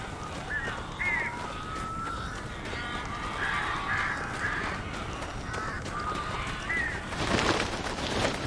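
Many birds caw in Alan Wake Remastered, a dense flock of harsh, overlapping calls that carries on steadily over a noisy rushing background and swells into a louder, brighter surge near the end.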